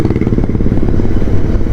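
Royal Enfield Interceptor 650 motorcycle with an aftermarket exhaust, a loud, close, throbbing twin-cylinder rumble with rapid regular pulses, heard briefly and alone.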